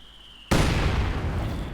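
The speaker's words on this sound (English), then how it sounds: "there's a bit of a duel there going on between the two mortars" Mortar fire in the World War II strategy game Company of Heroes 2, a sudden loud boom that bursts in after half a second of quiet and then rumbles on with dense crackling, no talk.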